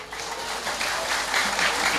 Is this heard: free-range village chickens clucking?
no